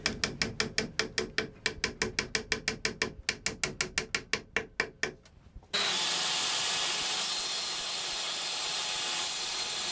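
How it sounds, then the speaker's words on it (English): Glued 5x30mm wooden dominoes being hammered into the corners of drawer boxes, a rapid series of about two dozen sharp, close knocks in steady rhythm that stops abruptly, leaving only a steady background hiss. "applying plenty of glue, and then hammering them home in the usual way"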